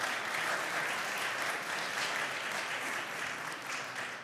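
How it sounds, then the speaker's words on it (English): A crowd at a youth entrepreneurship challenge event claps in sustained, dense applause, steady and fairly loud throughout before tapering slightly at the end. "Can we give a round of applause to all of them?"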